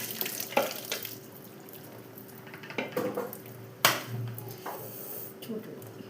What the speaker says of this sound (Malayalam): എന്ന് വെച്ചാൽ വെള്ളം മാറ്റി ഊറ്റിയെടുക്കാം